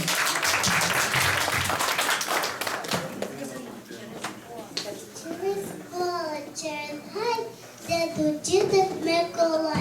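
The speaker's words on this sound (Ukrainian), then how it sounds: "Прошу, Камілочка, ваші оплески для Каміни." A church audience gives a child a round of applause, a dense clatter at first that thins into scattered claps as a voice and adult speech take over.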